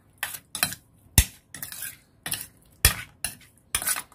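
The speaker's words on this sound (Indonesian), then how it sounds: "Aduk rata." A spoon stirs a soy sauce, dark soy and sesame oil marinade for Hong Kong-style chicken wings in a bowl, with about nine quick scraping clinks in an uneven rhythm, close and clear with no talk.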